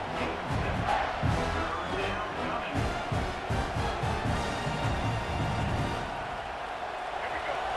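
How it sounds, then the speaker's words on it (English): Stadium crowd in the EA Sports College Football 26 video game cheering for the defense on a big third down, a dense, steady roar of many voices filling the clip with rising and falling swells throughout. "Big third down as the crowd gets behind this defense."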